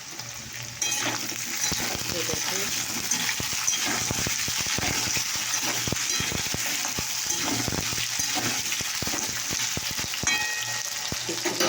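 Potatoes frying in hot oil with bay leaf and panch phoron, a steady dense sizzle with crackling pops running throughout, close and continuous.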